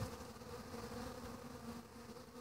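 Honeybees hum steadily at a hive entrance, a faint, continuous buzzing swarm with no voices.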